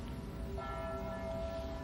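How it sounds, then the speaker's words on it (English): Church bells ring at a distance, faint sustained metallic tones swelling in after a quiet start and hanging steadily over a soft background hiss. "The church bells are ringing"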